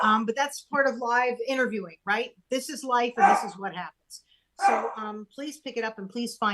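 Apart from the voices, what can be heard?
No everyday noises stand out.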